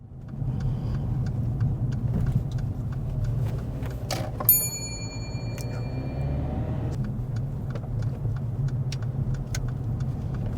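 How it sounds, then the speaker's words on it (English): A car's engine rumbles steadily as it engine-brakes in first gear with the clutch coming up during a driving test, a low drone holding throughout with a brief clunk and thin whine partway through. "This results in the car engine braking as she brought the clutch up"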